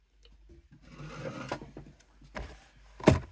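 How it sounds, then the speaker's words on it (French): An electric drill boring a 24 mm hole in a truck body, heard as short, quiet, uneven bursts of motor whir ending in a sharper burst. "faut percer en 24 du coup"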